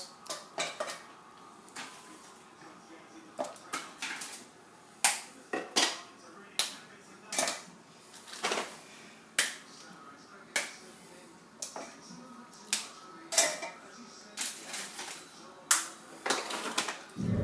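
Chocolate stirred in a pan to melt for a chocolate salami, a utensil knocking and scraping against the pan in a steady series of sharp, near clicks and taps.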